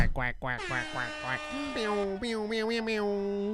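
A voice imitates a duck, giving a rapid run of nasal quacks followed by a longer drawn-out call at the start of a toy duck race, loud and close with a sustained buzzy tone at the end.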